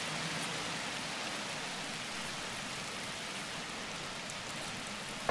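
Steady rain falls in the city-building game The Universim, a dense, even hiss that stays unchanged throughout, with no talking.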